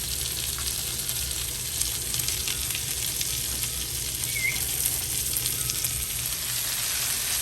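Hot wings sizzle in seasoned butter and avocado oil on a Blackstone griddle, giving a steady, close hiss with light crackling and no voices.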